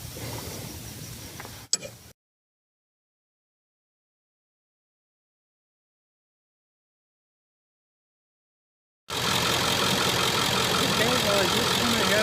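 A Ford 7.3L Power Stroke diesel engine runs after an oil change, a loud, steady, close idle clatter heard in two stretches separated by several seconds of dead silence.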